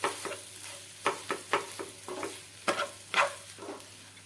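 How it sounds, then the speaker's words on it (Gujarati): Boiled potatoes being stirred with masala in a pan for aloo paratha filling, a quiet background sizzle broken by a series of sharp spatula scrapes and knocks at irregular intervals, with no talk. "હવે તેને આપણે મસાલાની સાથે મિક્સ કરી દઈએ"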